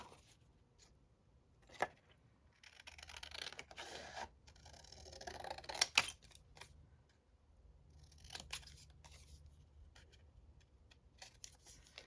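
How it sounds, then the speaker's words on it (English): Quiet, close snipping and crisp cutting of paper with dull scissors in short bursts, with a few sharp clicks and pauses between strokes. "I'm just going to use my scissors and cut"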